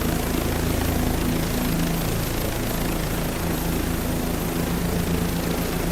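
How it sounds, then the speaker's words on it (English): A news helicopter flies nearby, its rotor and engine making a steady, loud, unbroken drone that fills the whole stretch with no talking. "well, they got a KLW World News helicopter"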